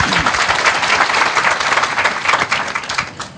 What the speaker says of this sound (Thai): ปรบมือให้พาราไดซ์ใหม่ค่ะ